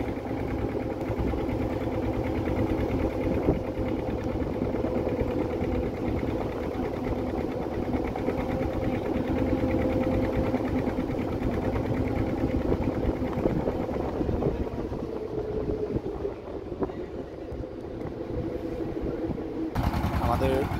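A ferry boat's engine runs steadily on a river crossing after leaving Sandeshkhali ghat, a continuous loud droning hum with faint voices in the background.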